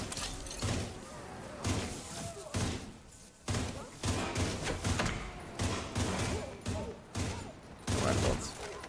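Rifle fire from The Division 2, loud bursts of shots repeating through the stretch with short gaps, near and dense, with a voice faintly underneath.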